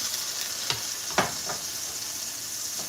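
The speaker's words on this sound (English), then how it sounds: "I'm gonna saute my onions." Onions sautéing in hot oil in a pan, a steady close sizzle broken by a few scraping stirs of a utensil.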